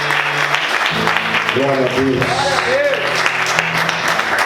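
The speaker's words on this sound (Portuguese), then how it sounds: "Vamos aplaudir Jesus." A church congregation applauds steadily during a worship service, a continuous dense clatter of clapping heard throughout while a voice speaks briefly over it.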